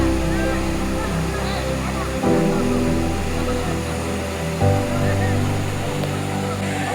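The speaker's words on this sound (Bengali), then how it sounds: "তো এটা হলো সেই রূপসী ঝর্ণা।" Rupsi waterfall on the Kamaldah trail in Sitakunda, Chittagong, gives off a constant rush of falling water, forest hills all around, with a sustained musical tone layered over the flow.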